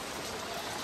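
Rain falls steadily in a Xi'an urban village, a soft, even hiss with no breaks throughout.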